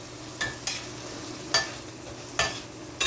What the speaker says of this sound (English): we're just gonna let this fry up a little